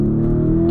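A 2023 Lamborghini Urus S SUV with a twin-turbo V8 holds a loud, steady engine drone in a brief burst, a deep sustained hum with strong low harmonics, close and alone.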